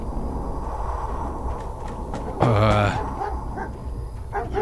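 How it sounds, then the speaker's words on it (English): A single dog barks loudly nearby, a short burst of yelps, over a busy background of other noise. "Dogs. There's a dog."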